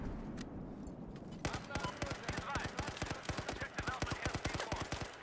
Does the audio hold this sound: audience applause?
no